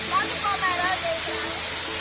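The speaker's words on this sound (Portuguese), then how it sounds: "Olha aí. Cachoeira de Frei Gaspar," Waterfall at Cachoeira de Frei Gaspar in Minas Gerais, reached by bicycle, gives a steady broadband rush of falling water throughout, with people talking over it.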